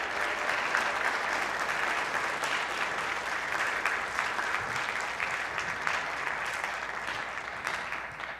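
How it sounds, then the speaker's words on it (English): Audience applauding school board members at a district address, a sustained even round of clapping from a large room that tapers slightly at the end. "if you would please give them a round of applause"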